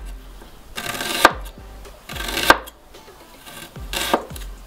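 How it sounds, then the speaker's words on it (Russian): A knife slices an onion into half rings on a cutting board, giving three or four slow, crisp cuts, each ending in a sharp knock against the board, close up with no talk. "Лук нарезаю полукольцами."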